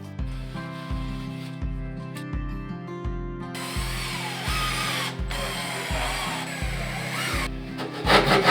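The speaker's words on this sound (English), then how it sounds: "next we're going to drywall over that and cut a hole so we can stick the fan in there" A power tool cuts a hole through drywall for a range hood fan, a steady loud grinding cut with a rhythmic pulsing pattern, close and uninterrupted, ending in a louder burst.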